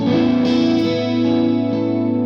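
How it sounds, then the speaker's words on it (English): A shimmering, chorus-like electric guitar chord rings out and sustains, bright and doubled like a 12-string, with no voices. "So I have a 12 string sound going on"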